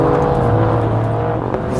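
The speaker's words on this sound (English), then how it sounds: "It's flipping nearly a Ferrari engine." Alfa Romeo Giulia Quadrifoglio with a turbocharged, nearly Ferrari-derived engine, its loud close-up drone holding steady under throttle for a couple of seconds.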